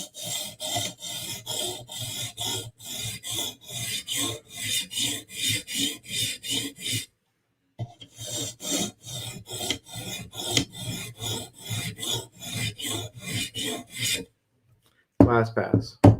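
Steady rhythmic rasping strokes of a blade drawn back and forth across a 150-grit sharpening stone, close up, with a brief pause midway and near the end.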